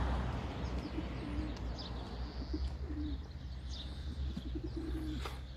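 Tumbler pigeons coo softly in short repeated calls, with occasional chirps and faint wing flaps over a low outdoor hum.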